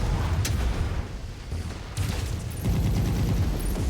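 Mech weapons fire in the video game Mechwarrior 5: Mercenaries as a dense run of heavy booming shots and rumbling blasts, loud and close, with a sharp crack early on and bursts later, and no talk.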